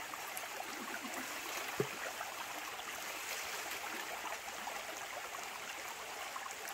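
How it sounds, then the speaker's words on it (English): River water flows with a constant, soft broadband rush, quiet and even throughout, with no distinct splashes standing out. "the ladies are enjoying the swimming, washing themselves in the river"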